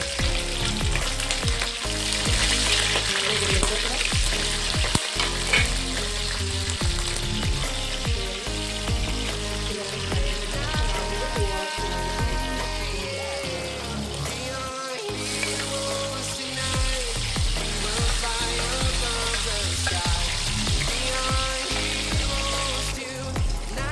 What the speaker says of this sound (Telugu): అది కొంచెం ఫ్రై అవ్వాలి.